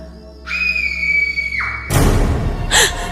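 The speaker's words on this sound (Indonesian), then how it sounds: "ada suara jeritan yang terdengar nyaring" A piercing, high-pitched scream rings out loudly for over a second at night, followed by a burst of harsh, noisy commotion.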